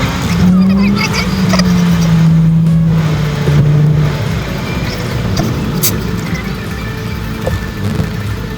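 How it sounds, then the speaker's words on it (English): A car driving onto a night ferry, played back at four times speed, gives a sliding, whiny engine tone over a dense, steady rumble with scattered clanks, loud and close throughout. "Driving on the ferry sounds awesome at 4 times speed."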